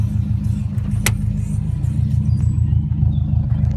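A 2005 Subaru Impreza WRX STi engine holds a steady, even rev, its continuous low drone close and unwavering throughout with no surging.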